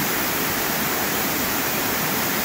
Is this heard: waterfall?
yes